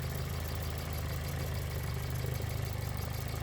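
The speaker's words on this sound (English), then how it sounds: "The engine is hot and running." A hot Volvo 940 engine idles steadily nearby, a low rumbling drone with an even, faintly pulsing rhythm and no voices.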